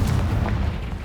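A Confringo blasting spell goes off in Hogwarts Legacy, a dense low booming blast with rumbling body that rolls on steadily through the brief moment, loud and close with no voices over it.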